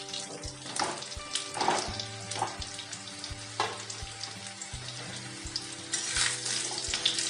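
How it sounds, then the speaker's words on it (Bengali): Potato pieces frying in hot oil with cumin seeds and green chillies, a steady close sizzle with crackling bursts while the cook stirs. Utensils clink against the pan at a regular beat. "আলুটা ভাজা হয়ে গেছে,"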